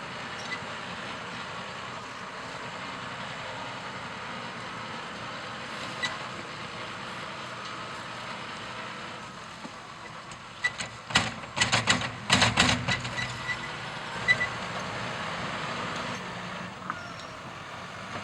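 A tractor loading shovel works the edges of a nature reserve scrape at Pendeford Mill, its engine a steady, moderate drone, with a cluster of louder clanks and scrapes partway through.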